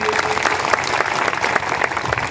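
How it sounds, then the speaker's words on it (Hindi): A crowd at a political party rally in a village claps loudly to welcome a new member joining the party, with dense, continuous applause and faint voices mixed in. "जोरदार ताली बजा के उनका स्वागत करिए"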